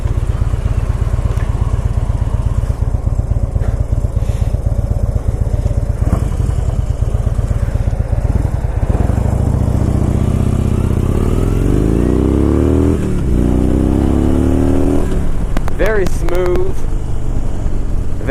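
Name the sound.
Harley Davidson Dyna Bagger 103 engine motorcycle riding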